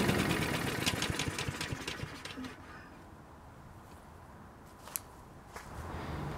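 A small engine idles roughly with a rapid, knocking chug while Seafoam is poured in, then fades and sputters toward a stall, leaving faint scattered clicks.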